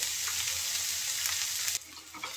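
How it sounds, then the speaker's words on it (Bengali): Chopped onion frying in oil in a pan, making a bright, steady hissing sizzle close up that dips slightly toward the end, with faint stirring clicks and no voices. "পেঁয়াজটা এখন একটু লাল করে ভেজে নেব"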